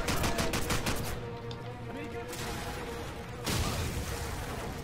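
Rapid bursts of AK rifle fire in Call of Duty 4, loud and close, stop for a couple of seconds and then resume as another automatic burst.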